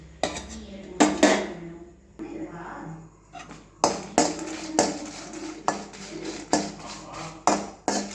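Chillies are dry roasted in a pan, with sharp, close clanks and scrapes of a utensil on metal at an irregular pace and a voice speaking briefly early on.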